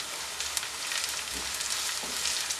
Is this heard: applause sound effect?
no